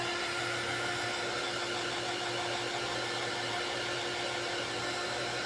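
A hair dryer blows steadily on a wet brown craft paper sunflower, a loud, constant whooshing roar with a fixed motor whine throughout and no talk.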